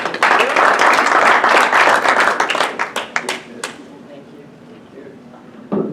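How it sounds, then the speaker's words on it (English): Audience at a Wise Counsel speaking event breaks into loud, dense applause for a speaker, then the clapping thins out and fades, leaving a quiet room with a few stray noises. "So let's give Sandra a big round of applause, okay?"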